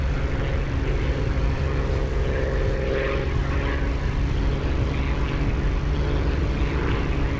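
A propeller aircraft engine idles with the throttle pulled fully back in the DCS flight simulator game, giving a loud, steady droning hum with a constant low throb throughout and no talking.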